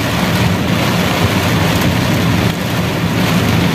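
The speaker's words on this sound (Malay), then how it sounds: "Hujan lebat," Heavy rain and a storm wash loudly and steadily over a car being driven on a highway in Malaysia. The roar is dense and continuous and fills the whole stretch with no talk.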